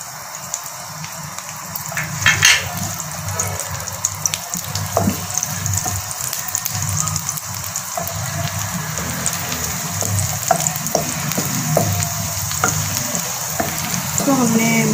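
Garlic sizzling in two spoonfuls of hot ghee in a pan, a continuous soft crackling hiss with a low background hum, steady throughout with occasional louder spits.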